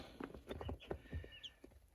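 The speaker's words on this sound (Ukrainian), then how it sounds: "От такі курчатка." Soft, scattered peeping and clucking from newly hatched Wyandotte, Barbezieux, Silkie and Marans chicks, several short calls in irregular bursts, fairly close and quiet.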